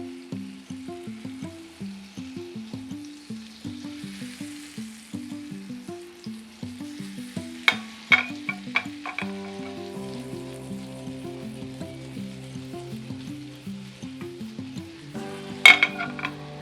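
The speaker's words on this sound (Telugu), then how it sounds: "కొంచెం బటర్ వేసుకొని దానిలో కొంచెం కారం, కసూరి మేతి వేసుకొని కొంచెం హీట్ చేసుకోవాలి." Butter with chili powder and kasuri methi sizzles quietly in a pan for chicken keema pav, a faint hiss with occasional spoon clinks against a steady tonal backing.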